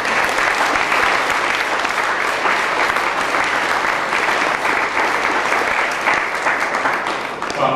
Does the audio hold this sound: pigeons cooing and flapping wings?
no